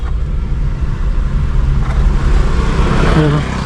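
A car pulls away gently in first gear while the driver steers straight out of a right turn, its engine a steady low rumble close by, with broadband road noise that swells slightly toward the end.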